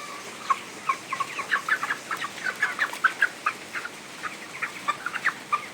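A chicken feeding clucks in a quick, irregular series of short, bright calls, fairly close and clear, over a quiet farmyard background.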